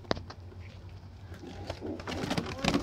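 A male pigeon being handled, giving low coos amid rustling and thumps of wings and hands, with faint background voices and bird sounds.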